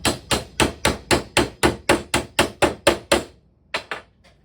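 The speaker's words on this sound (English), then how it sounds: "hammer this down." A Codex Quest puzzle piece being hammered down, a dozen sharp, evenly spaced hammer blows close up, then a short pause and two or three lighter taps.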